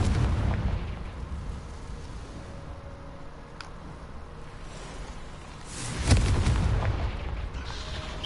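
A Confringo spell goes off in Hogwarts Legacy with a sudden booming blast that rumbles and fades, set against a low background din with a smaller crack shortly before.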